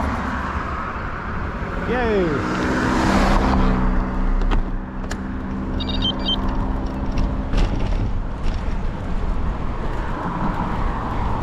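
Two cars sweep past on a roadside near a cycling trail, a steady rushing whoosh that swells and fades close by, with a brief cheering voice over it.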